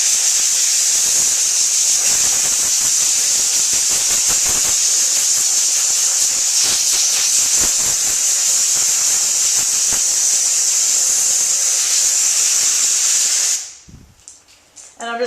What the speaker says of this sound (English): take a blowgun hooked up to an air compressor with a filter on it